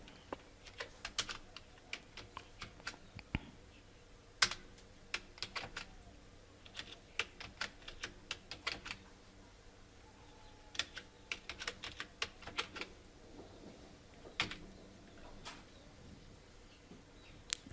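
Someone types on a computer keyboard while entering API credentials, with irregular bursts of crisp, close key clicks and brief pauses between them over a quiet room background.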